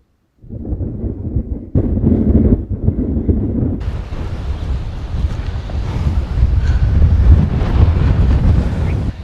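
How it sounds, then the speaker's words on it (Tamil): Strong wind roars into the microphone on a forest trail from Aliyar to the Contour Canal, starting as a low rumble and swelling into a loud, broad blustery rush that keeps going. "பயங்கர காற்றுங்க"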